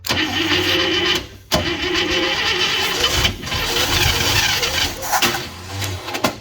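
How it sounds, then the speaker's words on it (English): Loud, close starter motor grinding and cranking the engine of a 1971 International Travelall 1210 truck, unrun for 22 years, in several strained bursts with brief pauses, whining and rough, without catching. "Ooh, that starter doesn't sound happy."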